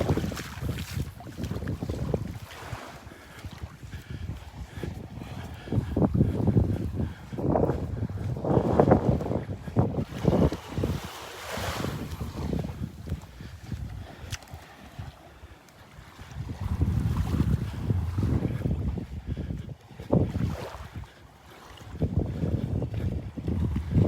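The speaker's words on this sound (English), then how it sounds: "the wind coming out of the northeast" Northeast wind blowing on a beach, gusty wind buffeting the microphone in surging waves of rumbling noise, loud at times and easing between gusts, no talking.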